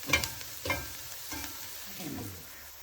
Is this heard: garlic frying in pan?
yes